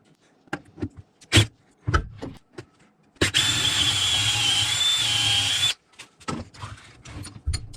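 A power drill whines steadily for a couple of seconds, close and loud, drilling a hole in a shop vise, between scattered clunks and knocks of handling.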